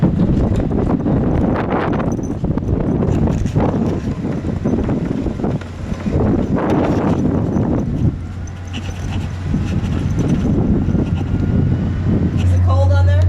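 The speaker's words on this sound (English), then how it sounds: "the wind's already beating into us" Strong wind buffets the microphone on the deck of a sternwheeler boat in the Columbia Gorge, a heavy continuous rumble with people talking over it and a low engine drone near the end.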